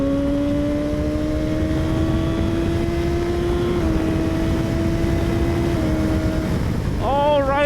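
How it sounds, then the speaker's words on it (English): Strong wind buffets the microphone while a BMW S1000R motorcycle is ridden, a dense, loud rushing roar with a steady engine whine running beneath it. A short voice rises at the very end. "it is so windy today"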